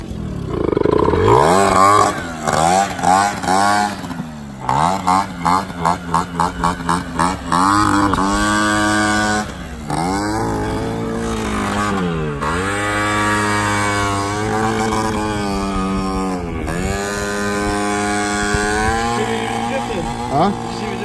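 A Piaggio NRG MC3 scooter with a performance exhaust revs hard up close, its two-stroke engine rising and falling in repeated throttle blips and sustained high-pitched wails, with people talking over it.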